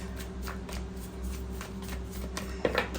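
Tarot cards are shuffled by hand in close, soft riffles and flutters, with a short sharper snap of cards near the end; no talking over it.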